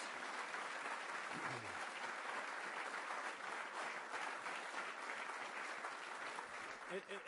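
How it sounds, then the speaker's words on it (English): Quiet, steady applause from an audience welcoming Karen Pence at a presidential speech, a sustained wash of clapping with a few voices mixed in. "give a great round of applause to the Vice President, Karen Pence"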